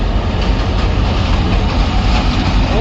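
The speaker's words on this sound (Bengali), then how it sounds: "বড় একটা ট্রেন গেল," A big train rolls past close by, a loud, steady rumble with continuous wheel and carriage noise filling the whole moment without a break.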